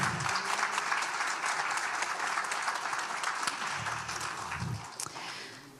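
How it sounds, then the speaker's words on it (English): Audience applause at an adult basic education graduation ceremony, a dense, sustained wash of many hands clapping that thins slightly toward the end. "applause to you."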